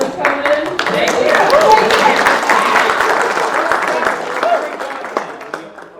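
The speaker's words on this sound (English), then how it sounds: "We all applaud you for taking it, and we wish you luck in progress." Applause from an audience at a furry motorsport car meet, steady clapping across the crowd that fades toward the end, with some voices mixed in.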